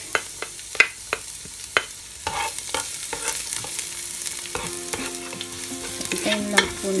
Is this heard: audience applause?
no